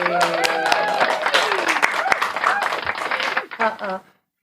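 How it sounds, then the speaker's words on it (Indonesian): A live audience at a children's anti-bullying podcast taping claps for several seconds, dense and steady, with a host's voice heard over the applause before it cuts off. "Mana nih tepuk tangannya?"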